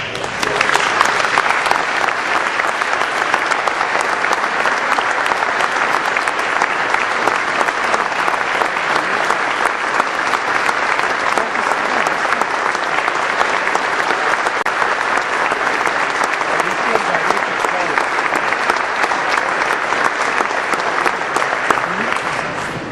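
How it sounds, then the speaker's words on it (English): Sustained, dense audience applause honors an award recipient at a NACUFS lifetime member award ceremony, a steady roar of many hands clapping for over twenty seconds without letting up. "let's give Mike another round of applause."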